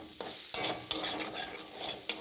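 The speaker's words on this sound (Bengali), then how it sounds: "একটা চিংড়ি ভাজছি।" A prawn frying in a pan, a soft sizzle broken by a few sharp scraping strokes of a utensil, close and short.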